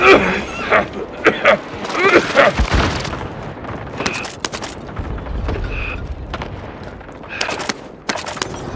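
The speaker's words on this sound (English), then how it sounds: "Allied cluster strike arriving" Cluster strike explosions and gunfire in Call of Duty Warzone: a string of loud booms and sharp shots in quick succession, close and heavy, with game voice lines and chatter mixed in.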